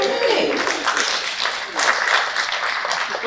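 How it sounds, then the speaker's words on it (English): Audience at a student accessibility services orientation clapping steadily, a full sustained round of applause with voices mixed in throughout. "Y'all take the clap. Go on, clap."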